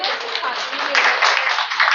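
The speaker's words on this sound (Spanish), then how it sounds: "Un aplauso, por favor." Audience applause at a Mexican comic and manga event, ChiquiFest 7: dense, steady clapping from a crowd that fills the whole moment, fairly loud and close, with no talk over it.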